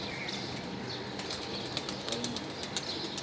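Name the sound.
wings flapping as racing pigeons take flight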